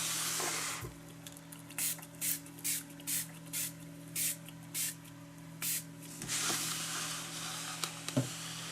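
A spray bottle fires about nine short hissing bursts in a loose rhythm, close by, followed by a longer spraying hiss over a steady low hum.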